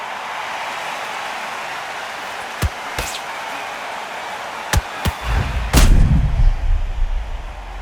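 Heavy punch impacts from the boxing video game Undisputed land in a slow-motion replay: several sharp, loud thuds spaced irregularly over a faint hiss, the last one followed by a booming, drawn-out rumble.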